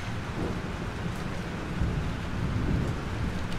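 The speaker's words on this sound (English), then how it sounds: "This storm is super real." A thunderstorm rages in the game Life is Strange, with steady heavy rain and deep rolling thunder swelling toward the end, a dense continuous roar with no voices.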